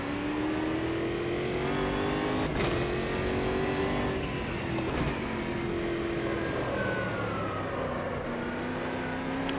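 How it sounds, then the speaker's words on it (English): A V8 stock car engine in the Automobilista 2 racing game, held at high revs in a loud continuous roar with rising and falling pitch as gears change, no talk over it. "this is the stock car in AMS2"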